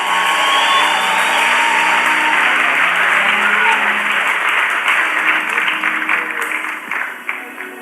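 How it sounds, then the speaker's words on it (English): Loud congregational clapping in an Assemblies of God church as a visiting apostle ascends the podium, a dense roar of hands mixed with whoops and shouts that stays strong and then thins toward the end. "Clap your hands as he ascends the podium."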